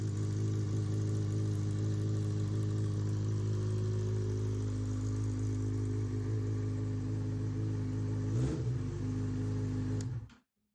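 A Yamaha XJ6 motorcycle with an aftermarket exhaust idles steadily nearby, a deep, even engine rumble holding for about ten seconds before cutting off abruptly.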